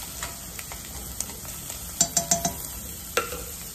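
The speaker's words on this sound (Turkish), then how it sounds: "Havuçları da atalım. Havuçlar da kavrulsun." Carrots sautéing with onions and potatoes in a pan, a quiet low sizzle broken by a few clattering stirs and scrapes of a utensil against the pan, close and without talk.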